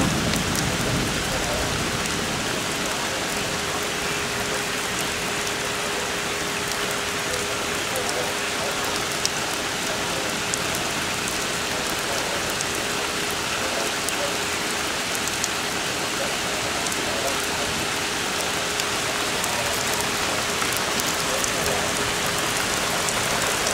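Heavy thunderstorm rain in Cranford, New Jersey in June, a dense, steady roar of downpour that stays loud and unbroken throughout, with no voices.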